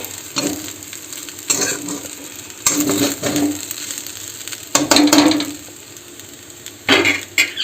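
Rice being fried with coriander leaves in a pan gives a soft, continuous sizzle, broken by several loud bursts of stirring and scraping with a spoon against the metal.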